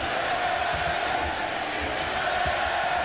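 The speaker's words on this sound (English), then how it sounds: "the crowd begins another sarcastic chant of Reggie, Reggie" A basketball arena crowd at an NBA Eastern Conference Finals game in Chicago chants "Reggie" mockingly, a dense, steady roar of many voices with rhythmic swells over loud crowd noise.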